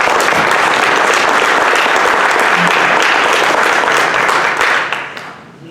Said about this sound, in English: please give everybody involved in AdkYP a round of applause.